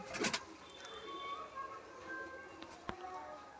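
Pigeons in a loft of high-flying birds, with faint soft coos and brief calls over a steady low hiss, plus a few short knocks and rustles nearby.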